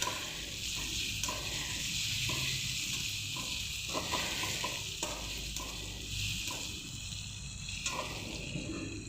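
Ginger chili paste sautés in oil for a samosa filling, a constant close sizzle with regular stirring scrapes of a spoon against the pan, no voices.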